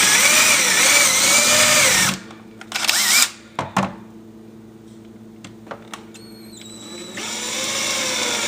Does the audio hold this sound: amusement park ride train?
no